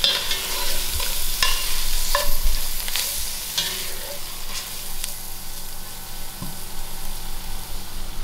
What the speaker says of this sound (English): I throw in all my masala cooking for a few minutes,